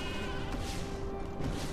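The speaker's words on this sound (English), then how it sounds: "Sheep invasion? The sheep are back!" Sheep bleat in Skylanders Giants during a turret-shooting sheep invasion, their cries blending into dense, loud game music and effects for under two seconds.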